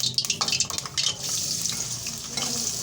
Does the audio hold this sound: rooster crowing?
no